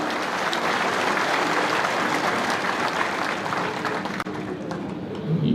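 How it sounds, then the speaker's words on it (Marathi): An audience at a political rally applauds a politician's arrival, a loud, dense, continuous wash of clapping that fills the whole stretch without pause. "आपण सर्वांनी टाळ्या वाजून पहिल्यांदा पवार साहेबांचं या ठिकाणी स्वागत करा"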